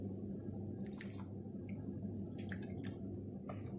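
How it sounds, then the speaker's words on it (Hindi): Two tablespoons of soy sauce poured into a pan of carrots and cabbage, heard as a few quiet, brief liquid drips and splashes over a low steady background hum. "इसके साथ ही इसमें सोया सॉस डालेंगे 2 टेबलस्पून"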